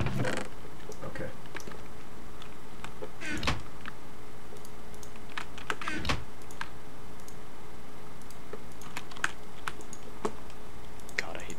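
Computer keyboard typing during a video game session, scattered clicks and short bursts of keystrokes at close range over a steady background hum, with occasional louder clacks.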